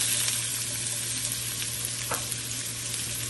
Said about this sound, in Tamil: டைரெக்டாக எண்ணெய் சூடானதும் ஒரு வெங்காயம் நல்லா ரஃப்பாக கட் பண்ணி வச்சுருக்கேன், அது உள்ள சேர்த்தணும்.